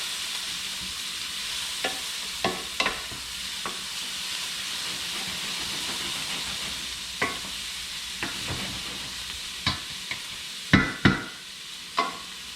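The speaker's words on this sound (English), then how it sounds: "Okay, the onions and the garlic have been cooking for a little while" Onions and garlic sauté in a pan for seafood risotto with a steady close sizzle, while a wooden spoon scrapes and knocks against the pan in scattered sharp strokes, clustering toward the end.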